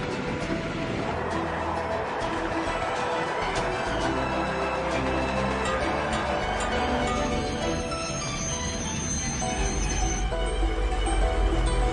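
Train wheels grind and squeal on the rails as a train rolls through a railway station in Ujjain, a loud continuous rumble with high metallic screeching building near the end, no talking.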